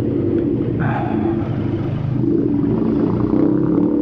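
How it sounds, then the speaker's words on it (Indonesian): A noisy car rumbles close by during a night motorcycle ride, a loud, steady low drone of engine and road noise under wind, without talk. "Aduh, tar ini mobil berisik."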